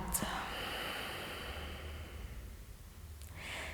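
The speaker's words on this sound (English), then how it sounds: "big, one last breath in. And exhale out." A deep, slow exhalation at the close of a yoga relaxation, a soft airy breath heard close and alone, with a brief snort-like intake at the start.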